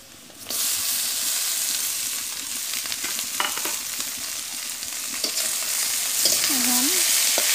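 Sliced onions fry lightly in oil before gura fish is added for a village-style fish bhuna, a close, continuous sizzle with occasional stirring scrapes and a short tonal squeak near the end.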